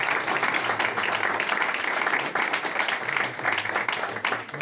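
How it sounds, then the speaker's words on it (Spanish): An audience claps after a talk at an indoor gathering, many hands beating in a full, continuous round of applause that stays loud for several seconds with slight dips. "Bueno, un aplauso"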